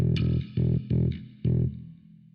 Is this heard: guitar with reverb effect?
yes